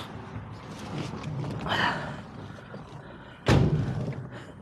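The side door of a 1970 454 Chevelle slams shut with one heavy, close thud, following a few seconds of rustling and shuffling.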